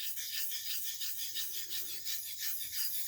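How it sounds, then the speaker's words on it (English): A hollow ground Hamburg straight razor is stroked back and forth across a sharpening stone, giving a close, quiet, rhythmic scraping hiss with about eight even passes and no talking. "This is a slightly more hollow ground razor. The Hamburg rings are deep hollows, and you can hear it protesting."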